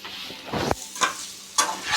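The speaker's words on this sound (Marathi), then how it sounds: "तर खजूर पण आपली चांगली तुपात चांगली भाजली गेली आहे." Chopped dates frying in ghee in a kadhai over a low gas flame, with a steady sizzle broken by several sharp scraping stirs of a spoon against the pan, close and loud with no talk.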